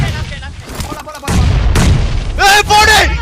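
Bomb blasts in a multiplayer shooter video game: deep booming bursts and crackling gunfire come in clusters, loud and close, while excited voices talk and shout over the action.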